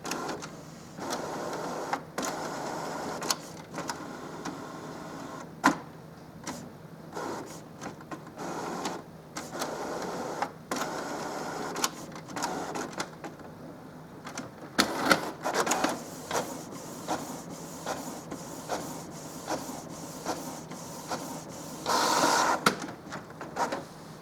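Canon Pixma TS5050 inkjet printer prints a nozzle check page, giving repeated mechanical whirs, clicks and carriage sweeps at moderate, close level over about twenty seconds.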